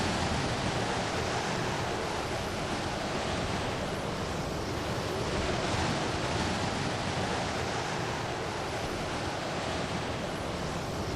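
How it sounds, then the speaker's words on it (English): Windy ambient sound in the video game Dark Souls 3, a steady, loud, broadband rushing like gusting wind or surf that holds evenly for the whole stretch with no talk. "It's a very windy sound."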